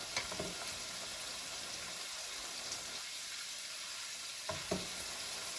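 Hoisin honey chicken pieces frying in a pan give a steady close sizzle, with a few sharp clinks and scrapes as the pieces are turned over.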